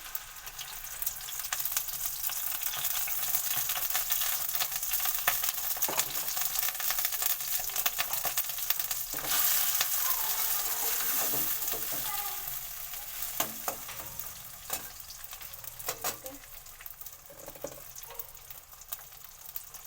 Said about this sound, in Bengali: চিংড়ি মাছগুলো দিয়ে দেবো।